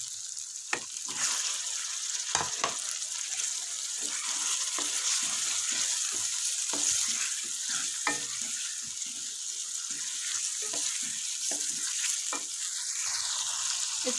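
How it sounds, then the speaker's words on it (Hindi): Chicken frying in a karahi for white karahi, a close, continuous crackling sizzle of hot oil with occasional stirring scrapes and clacks, steady throughout with no talk. "अब इसमें ऐड कर देंगे चिकन।"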